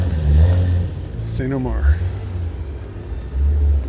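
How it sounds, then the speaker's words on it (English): A Porsche revs and drives past on a street in Wynwood, Miami, its engine rumbling low and swelling close by, while people talk over it. "Some beautiful Porsche action."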